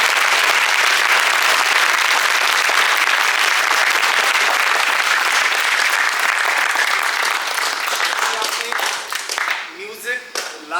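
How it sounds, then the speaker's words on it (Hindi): An audience applauds after a Hindi stage play, with dense, loud applause that fills the room before gradually thinning out into scattered individual claps. "एक बार और तालियां होनी चाहिए"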